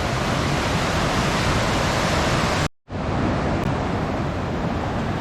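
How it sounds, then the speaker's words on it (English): Steady, full rushing river water roars without pause behind an old abandoned factory in Carleton Place/Almonte, dense and loud, broken only by a brief cut of silence partway through. "Love flowing water."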